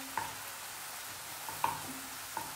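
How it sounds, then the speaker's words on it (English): Garlic fries in butter over a high flame with a soft continuous sizzle, broken by three sharp clinks of a spoon against the pan. "fry the garlic really well"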